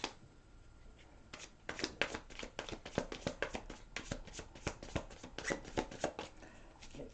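Tarot cards being shuffled back into the deck by hand, a close run of quick papery slaps and riffles that starts after a second and continues in uneven bursts.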